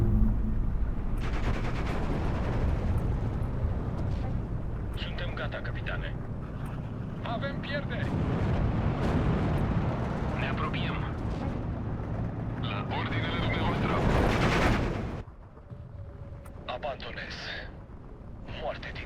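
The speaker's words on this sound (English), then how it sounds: "Can't be very pleasant to have that ordnance dropped on top of you" Aircraft bombs fall and burst in a Steel Division 2 battle, a dense, sustained roar of blasts and rumbling that fills the scene, then drops off abruptly to quieter scattered crackle; someone talks over it.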